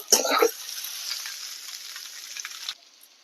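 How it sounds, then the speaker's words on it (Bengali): Chopped onion and potato frying in oil for a Bele fish curry, a bright continuous hiss with a burst of louder sizzle and stirring at the start, then the sound cuts off. "পেঁয়াজটা দিয়ে দু মিনিট নাড়াচাড়া করে ভেজে নেওয়ার পর"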